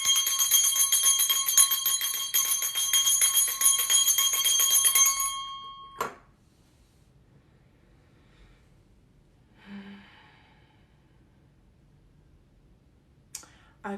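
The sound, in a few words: bell being rung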